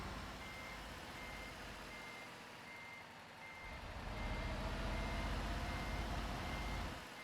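A lorry reversing in a truck driving game, with a steady series of evenly spaced reversing beeps over a loud continuous diesel engine rumble that swells partway through.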